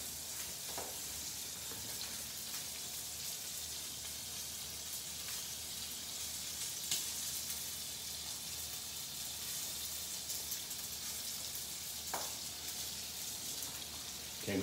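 Butter sizzles in a hot pan as salmon cooks, a steady, even hiss with scattered small pops and a few sharper crackles, heard alone without any talk.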